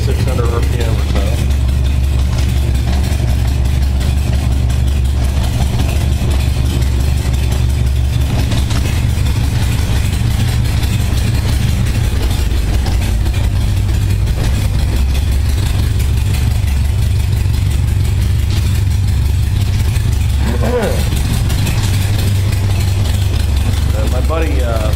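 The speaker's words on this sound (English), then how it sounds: "Got a nice little low kill going right now at about 600 RPM or so." A 1978 Honda Goldwing motorcycle engine, warm and with freshly synchronized carburetors, idles low at about 600 RPM in a steady, continuous rumble that runs unbroken throughout, with a voice talking over it.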